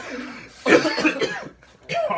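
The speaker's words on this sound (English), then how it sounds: "You're gonna cough when you first hit it." A person coughs after taking a first hit of smoke through a straw, two short harsh bursts close by with a brief pause between them.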